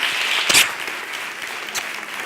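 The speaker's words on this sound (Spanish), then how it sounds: "un gran aplauso a don Carlos Escario" An audience at a leadership talk applauds speaker Carlos Escario, a short burst of steady clapping with a couple of sharper claps standing out.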